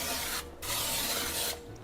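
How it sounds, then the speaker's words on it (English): Two hissing bursts of Pam cooking spray into a ring mold, a short pause between them, close and steady with no talking. "We're gonna spray it with some Pam"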